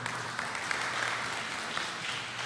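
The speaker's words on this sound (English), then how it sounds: "I think that Mr. Gregory from Healing Hands deserves a round of applause" Audience applause for Mr. Gregory of Healing Hands at a community meeting on gun violence, a steady broadband patter of many hands clapping at moderate level, with faint murmuring underneath.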